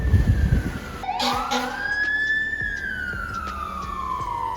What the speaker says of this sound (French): Bon, vous entendez le camion de pompiers.